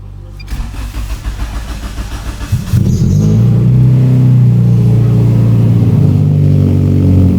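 BMW engine with a modified exhaust cranking for a few seconds before catching and settling into a loud, deep, rumbling idle, recorded close up without talking.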